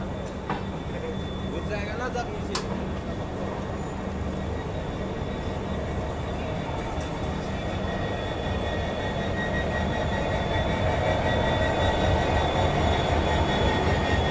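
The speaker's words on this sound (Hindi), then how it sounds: "निकल चुकी अपनी ट्रेन जो है नाहरलागुन रेलवे स्टेशन से" An Indian passenger train, the Donyi Polo Express, rolls out of Naharlagun railway station at low speed, with a steady mechanical rumble and faint squeals, gradually growing louder, under a murmur of voices.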